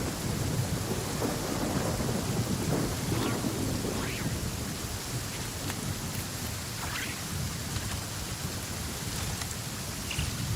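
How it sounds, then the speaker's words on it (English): Steady rain pours in a stormy Genshin Impact game scene, with thunder rumbling low beneath it throughout, a continuous wash of rainfall at even loudness. "listening to the rain cleanse the earth makes me feel safe"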